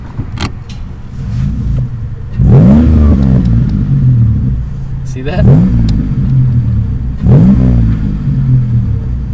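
A Lexus ES250 engine revs in several bursts with small exhaust burbles, close and fairly loud, as people talk over it.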